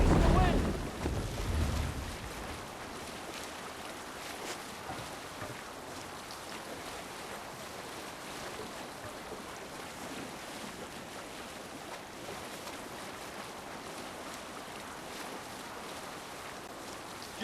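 Wind and waves rush steadily around a sailing ship in the Assassin's Creed Valhalla video game, a loud low burst opening before settling into a constant broad wash of water and wind.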